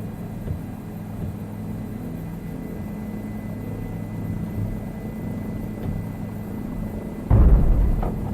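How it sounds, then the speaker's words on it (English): A private helicopter in Microsoft Flight Simulator over safari scenery, its steady low engine and rotor drone running continuously, with a sudden louder rumbling burst near the end. "That brings his private helicopter."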